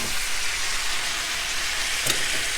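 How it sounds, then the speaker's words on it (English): Soy sauce and ginger mixture hits a hot pan with a loud, steady hiss of sizzling that fills the space, marked near the end by a brief sharper crackle or stir. "I'm going to go ahead and add that soy sauce ginger mixture. And I'm going to add that to the pan."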